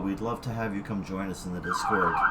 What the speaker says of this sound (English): I want to apologize for that siren if you can hear that.